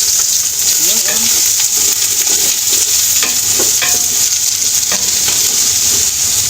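Onions sizzling in a hot pan of pork adobo, a continuous loud hiss with occasional stirring scrapes and clinks, and brief speech in the background.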